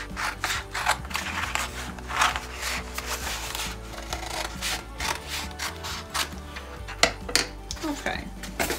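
Scissors trimming a Cricut infusible ink transfer design, a series of close, crisp snipping and rustling paper sounds in an irregular rhythm, with occasional handling clatter.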